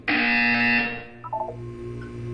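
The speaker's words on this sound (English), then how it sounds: "You will hear a buzzer." A harsh electronic buzzer from the video game Portal 2 blares loudly and steadily for about a second, then cuts off, followed by a few short, quieter tonal blips over a low hum.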